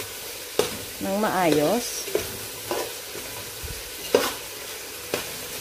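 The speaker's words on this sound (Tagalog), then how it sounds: "So, i-mix po natin siya" Chicken and black pepper are stirred in a pot for Filipino arroz caldo: a spoon scrapes in several distinct strokes, about one a second, over a low steady sizzle, with a brief spoken phrase partway through.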